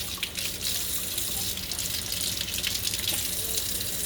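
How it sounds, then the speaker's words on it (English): Tap water runs steadily over the leaves of Pink Princess plantlets, a continuous close splashing gush with no pauses or talk. "Let the water run over the leaves."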